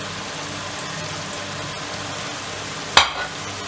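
Spices sizzle steadily in hot oil in a pan over medium flame for chikar choley gravy, a loud continuous crackling hiss broken by one sharp clatter near the end.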